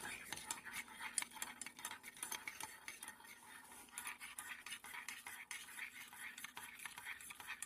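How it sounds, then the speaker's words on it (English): Flour being stirred into bread dough for condensed milk bread: faint, close scraping and rhythmic scratching of a utensil against a bowl, repeating steadily, with a few brief clinks. "So now I'm going to stir that again"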